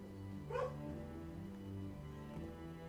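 A dog barks and yips in an animated RWBY episode, one sharp burst followed by softer whimpering sounds, heard beneath ongoing music and background audio from the show.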